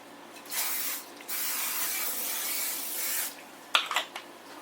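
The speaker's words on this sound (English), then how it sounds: "I'm going to be spraying my casserole dish with olive oil spray." An olive oil aerosol spray hisses in two long steady bursts onto a casserole dish, close and fairly quiet, followed by a few light clinks of the dish.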